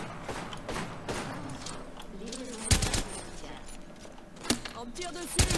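Gunfire in Apex Legends: bursts of rapid shots and several sharp, loud cracks spaced across a few seconds, mixed with game clatter and background voices.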